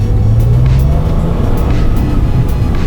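A Porsche engine revs loud and close, its pitch climbing steadily in a sustained roar with a rough, throaty edge and no voices.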